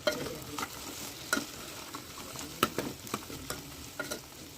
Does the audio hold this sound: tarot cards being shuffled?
no